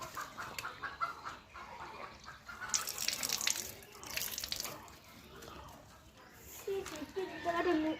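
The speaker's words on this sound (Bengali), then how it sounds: "যাই এখানে তো কল আছে যে মুখটা পরিষ্কার করে নিই" Water running from an outdoor tap while someone washes their face, a fluctuating splashing gush heard close with a voice talking over it and chickens clucking nearby.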